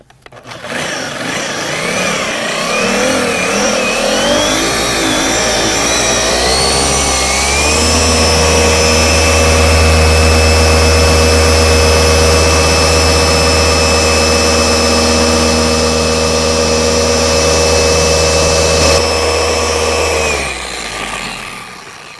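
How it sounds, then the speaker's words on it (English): A Porter Cable or Flex orbital polisher runs on car paint to remove swirl marks and scratches, its motor whining up and then holding a loud, steady hum for about twenty seconds before winding down, close and with no talking. "that's using the Porter cable polisher or the flex polisher"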